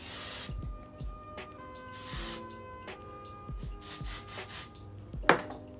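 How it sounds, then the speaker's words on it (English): Several short hissing bursts of dry texture hair spray come in quick puffs, with faint background music underneath. "you can go and spray hairspray"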